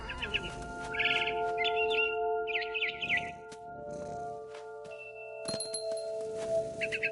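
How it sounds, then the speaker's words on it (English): A barn swallow in the video game What Remains of Edith Finch chirps in quick bursts of high twitters with short pauses between them, over a soft sustained ambient background. "Then I heard chirping outside my window. It was a barn swallow going back to her nest."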